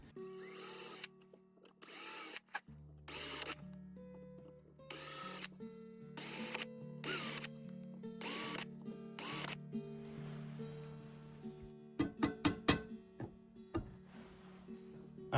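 A power drill with a drill bit bores into the body of a Kraftsman electric bass guitar in several short bursts, with a higher-pitched whine toward the end, close and clear with no talking.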